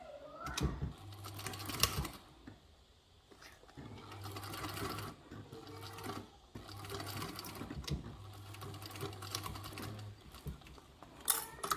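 A sewing machine stitches fold over elastic in several runs of rapid, even, humming stitches separated by short pauses and fabric handling, close up and without speech.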